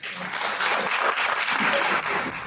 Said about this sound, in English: for that we deserve a round of applause, please.